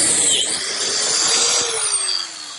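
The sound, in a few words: biscuit joiner cutting slot in plywood brace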